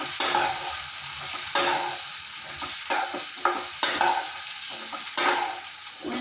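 Onions and garlic frying in a pan while being stirred, with a steady sizzle broken by repeated scraping strokes of the spoon, close and continuous throughout.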